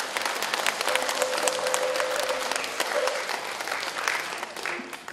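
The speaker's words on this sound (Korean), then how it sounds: "다시 한번 큰 박수 부탁드리겠습니다." Crowd applause at a Buddhist eye-opening consecration dharma ceremony, a dense, steady wash of many hands clapping from the audience for about five seconds, with a faint tone and murmur running beneath it.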